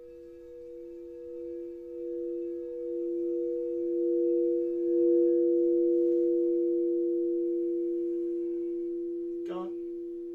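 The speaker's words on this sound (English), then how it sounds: "One more, which you don't hear often, is a tritone." Two steady sustained pure tones sound together as a tritone interval, held evenly and fairly quiet for most of the stretch, followed by a brief rising chirp near the end.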